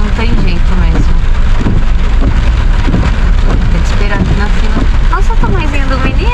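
Heavy rain pours down steadily and loudly on a street in Japan where a line of cars drops off children, while people talk over the constant downpour.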